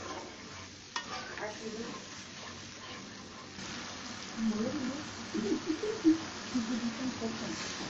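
Chicken roast stir-fried in a pan with yogurt and lemon juice: steady sizzling under repeated spoon stirring and scraping, with louder clanks and scrapes toward the end, all close up.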